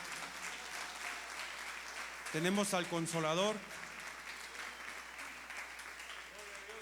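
A church congregation applauds steadily throughout, close and continuous, while someone speaks in Spanish over it through an amplified system for a couple of seconds.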